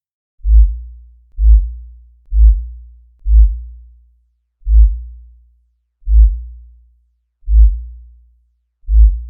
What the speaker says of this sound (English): You've basically got this ringing happening now.